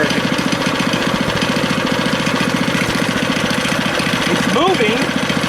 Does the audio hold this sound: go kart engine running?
yes